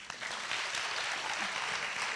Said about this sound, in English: One more sincere round of applause.